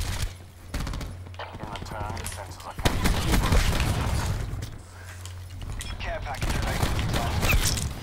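Rapid gunfire from a Call of Duty Black Ops 4 multiplayer match, bursts of shots crackling in dense runs with a steady low hum beneath, while a player talks over much of it.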